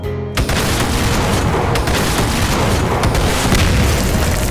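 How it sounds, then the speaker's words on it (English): A reactor blows up in Doom 2 with the Project Brutality mod, a loud, sustained barrage of booming explosions and rumbling blasts that fills the whole stretch after a brief quiet start. "Alright, let's destroy the reactor."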